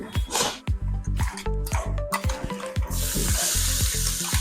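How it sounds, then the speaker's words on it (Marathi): Cumin seeds and asafoetida sizzle in hot oil on a griddle, a loud, close crackling fry broken by repeated clinks and scrapes of stirring. "आता तव्यावरती तेल टाकून घेते तव्यावर तेल टाकून घेतलं त्याच्यामध्ये थोडेसे जिरे टाकून घेतले"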